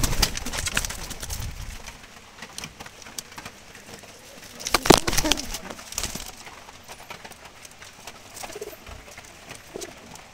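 Wild brown Jalali pigeons, a male and female, give soft intermittent coos outdoors, close by, with a louder flutter-like burst in the middle and faint rain-like patter behind.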